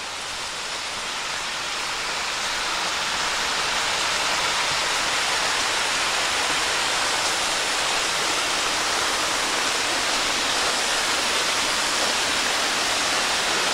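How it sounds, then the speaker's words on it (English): A natural waterfall along a forest trail in Hickory Run State Park roars as a loud, steady, broadband rush of falling water that swells slightly at the start and then holds constant, with no voices. "There's a beautiful waterfall up here."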